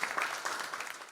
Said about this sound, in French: Des applaudissements nourris des participants de l'atelier de finalisation